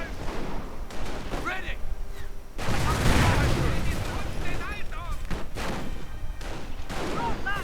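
Light machine gun bursts and scattered rifle fire crackle through a video game battle, with booms and explosions over continuous combat noise. A voice talks over the fighting.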